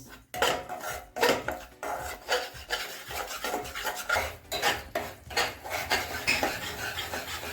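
Wheat flour roasting in ghee for sukhdi, a close rhythmic rasp of a spatula scraping and stirring the pan, repeating about once a second, loud and continuous with no talk.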